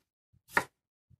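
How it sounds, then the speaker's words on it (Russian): A knife slicing fresh cucumber into strips on a board, one crisp cut framed by two faint soft taps, close and quiet with no talk. "нарежем свежий огурец"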